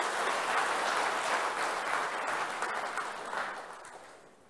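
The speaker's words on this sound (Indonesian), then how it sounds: "Kita berikan sambutan, tepuk tangan sekali lagi." A church congregation claps together for a welcome during a worship service, a steady, moderately distant patter of many hands that tapers off toward the end.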